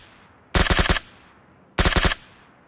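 Two short automatic bursts of gunfire in the PUBG video game, each a rapid string of about five loud shots, separated by a brief pause.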